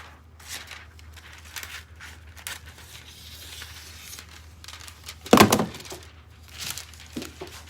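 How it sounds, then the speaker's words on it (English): Scissors cutting a piece of fabric or foil close by, with crinkling and snipping sounds, one sharp loud crunch near the middle, then lighter rustles. "I just need to make sure that I cut a piece long enough"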